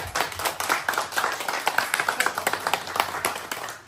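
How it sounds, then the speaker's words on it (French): An audience claps for an inventor at a talent show, rhythmic and close, with distinct sharp claps at a fairly even beat over a thinner spread of applause, with no talk over it. "applaudissez pour lui"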